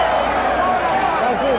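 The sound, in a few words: boxing crowd roaring at ringside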